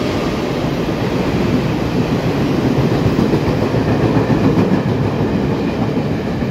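An E403 electric locomotive hauling a six-car Disney-liveried Round-the-Island Star tourist train passes close by, a loud steady rumble with wheel clatter on the rails throughout, no talk.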